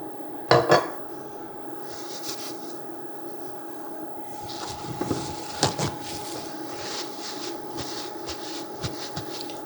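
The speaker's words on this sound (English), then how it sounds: "I'm going to put a very light coat of oil on there." A light coat of oil is worked onto a hot, blued carbon steel wok, with metallic clatter and scraping knocks over a faint steady tone, an early loud clank, then scattered rubbing and tapping.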